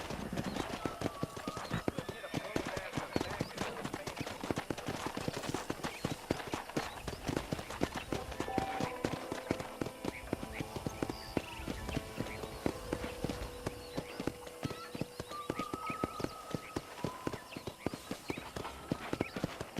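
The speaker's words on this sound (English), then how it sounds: "let's see if you can still ride a horse" Horse hooves clip-clopping at a steady riding pace in the Red Dead Redemption video game, a continuous rhythmic clatter under intermittent talking, with occasional faint whinnies and a soft ambient bed.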